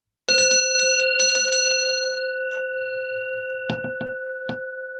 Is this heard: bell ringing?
yes